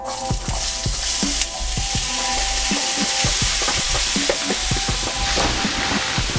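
Fresh vegetables sauteing in grapeseed oil in a pan, a loud steady sizzle with frequent clacks and scrapes of a utensil tossing them, close up and without talk.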